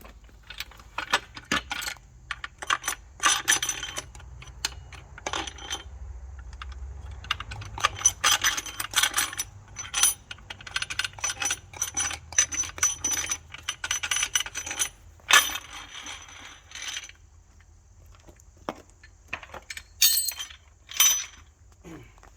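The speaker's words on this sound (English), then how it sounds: "So now we're going to take the upper rocker box cover off" Metal parts clink and rattle as the upper rocker box cover comes off a burnt 6.0L VT365 diesel engine during a teardown, with scattered clicks, taps and light scraping in bursts that pause briefly, close by with no talk.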